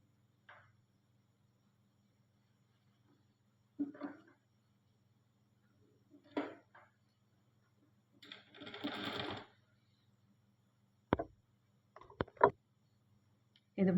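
A sewing machine stitching the neckline of a kaftan nighty runs in short, close bursts between pauses, and someone talks between the runs.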